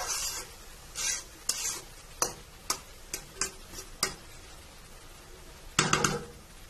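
Chopped sola kochu (taro) frying in a pan is stirred in a series of separate, sharp utensil scrapes and knocks over a soft, steady sizzle, ending with a louder burst of stirring.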